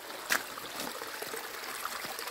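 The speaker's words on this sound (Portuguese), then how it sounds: "a nascente aqui do Riacho do Meio, uma das nascentes" Water trickles steadily from a spring of the Riacho do Meio stream in an ecological park in Barbalha, Ceará, a continuous close babble with one brief splash near the start and no talking.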